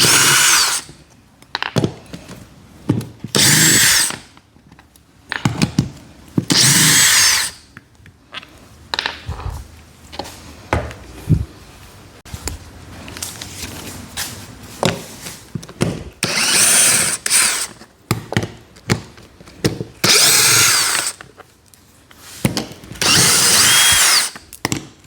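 A power drill backs out 11 mm screws from the side seat brackets of an EZ Go golf cart, loud whirring bursts repeating with clicks and clatter between, close and alone.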